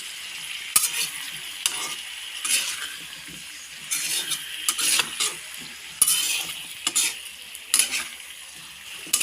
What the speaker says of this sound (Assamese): এয়া লৰাই দিছোঁ আলুৰ লগত যাতে ধুনীয়াকৈ মিহলি হয়।